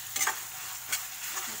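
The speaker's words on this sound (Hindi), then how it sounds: "इसमें रेड चिली फ्लेक्स और ओरेगानो जो मैंने बोला था वो डाल लीजिए, फिर से थोड़ा सा ऐसे फ्राई कर लीजिए।" Red chilli flakes and oregano fry in a hot pan for a quick Schezwan bread snack, giving a brief, steady close sizzle with a few soft stirring scrapes and no voices.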